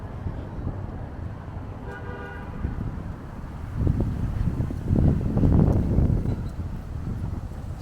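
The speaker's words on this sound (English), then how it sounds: "So it's really gusty down here." Gusty wind blows outdoors in a city park along Boston's Rose Kennedy Greenway near a shut-down carousel, a steady low rumble of wind buffeting the microphone that swells into stronger gusts midway, with faint traffic and a brief distant toot behind.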